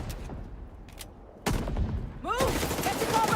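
Gunfire from a weapon in The Division 2, a run of loud, close shots in bursts that grow denser toward the end, with a voice talking over parts of it.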